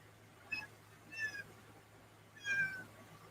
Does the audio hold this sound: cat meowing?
yes